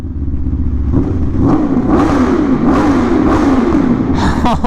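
An Aprilia RSV4 Factory motorcycle accelerates through a tunnel, its engine note climbing and roaring with rough clattering texture and loud boomy wind buffeting, rising to a higher rev whine near the end.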